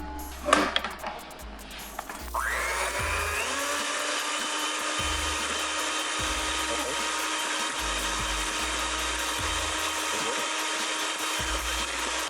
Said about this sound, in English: the hand mixer is vastly superior to the stand mixer when it comes to making meringue in small quantities